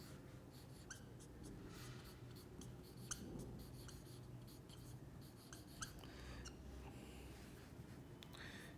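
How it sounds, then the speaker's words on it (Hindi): Chalk or marker scratching out a heading on a board during a chemistry lecture, a faint sequence of short strokes and taps over steady room hiss, with no speech. "तो मैं नेक्स्ट यहाँ पे हेडिंग लिख देता हूँ जी"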